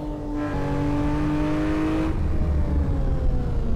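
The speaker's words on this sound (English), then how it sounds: "this Singer Porsche 911 is such a beauty, such a pleasure to drive" A Singer Porsche 911 in a driving game revs hard, its engine note climbing steadily for about two seconds, then dropping into a lower, rougher drone as the car keeps running, loud and up close with no talk.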